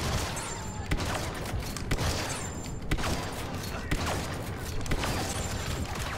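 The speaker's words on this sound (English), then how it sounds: "I can come behind a lot of them with my shotgun" A shotgun fires at stormtroopers in Star Wars Battlefront 2 Galactic Assault on the Death Star, booming in a regular rhythm of about one blast per second over constant battle noise.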